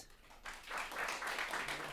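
An audience applauds in response to a space-explorers prompt, with a soft diffuse wash of clapping that swells after a brief quiet moment and holds steady, fairly faint and distant.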